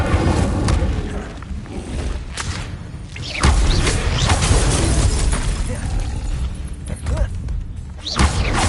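A fiery Incendio spell blast from Hogwarts Legacy bursts out loudly amid a dense, continuous wash of other spell impacts, whooshes and thuds, with no talking.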